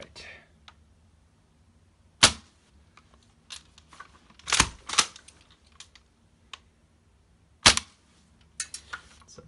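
An airsoft rifle fires BBs through a chronograph in a few sharp, separated cracks, each a brief loud snap with quieter clicks and handling noises between them.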